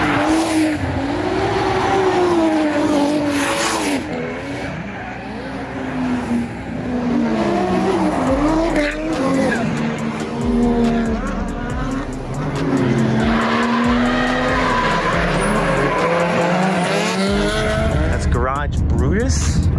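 Drift cars at Ebisu Drift Matsuri slide in tandem, their tires squealing loudly and continuously under wavering, revving engines, with a few brief skid bursts near the end.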